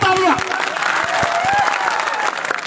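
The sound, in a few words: crowd applause at public meeting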